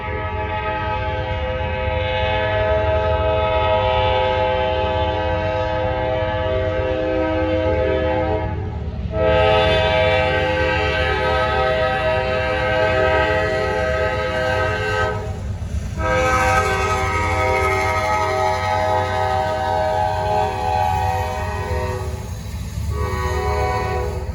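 A Norfolk Southern freight train, 98Z, rolls past with a loud sustained horn blast over the rumble of the rails, the horn briefly breaking off twice before continuing.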